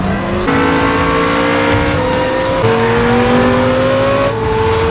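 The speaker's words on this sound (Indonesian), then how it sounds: "Driver langsung menancapkan gas di jalan bebas hambatan." Car in a film accelerating hard on a highway, its engine note climbing loudly through several gear changes in one continuous close roar.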